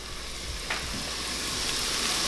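Shallots and garlic sautéing in a pot for moules marinière, a continuous close sizzle with one brief stirring scrape, no talk.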